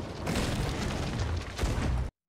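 Video game cannons fire during a naval fight. The blasts come in two broad bursts, one early and one later, then cut off abruptly into silence.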